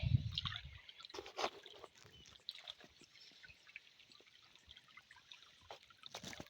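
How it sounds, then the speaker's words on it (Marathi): Irrigation water flowing over a field: faint trickling and splashing flowing steadily, with a soft wet gurgle near the start and scattered small splashes throughout. "आता सध्या ह्याच्यावर पाणी चालू आहे"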